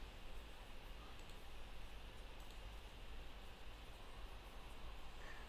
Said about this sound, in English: Now you can hear that behind me this air conditioner is making some noise.